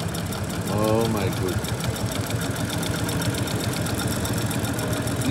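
A JUKI LU-2810V-7 walking foot industrial sewing machine running at a trade show, giving a steady rapid mechanical whir and rhythmic stitching clatter throughout, with a voice briefly heard over it.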